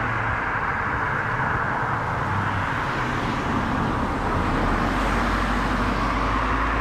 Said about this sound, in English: A lot of cars.